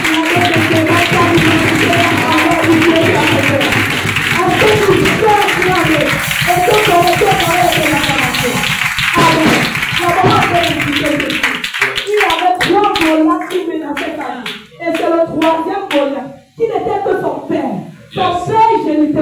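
A church congregation applauding: loud talking and voices at first, then a stretch of close, sharp hand claps that turns rhythmic and uneven toward the end.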